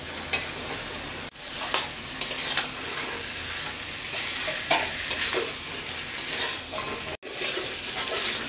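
Fried potato and cauliflower are stirred into a cooked spice masala in a pan, a constant close sizzle broken by scattered spatula scrapes and taps.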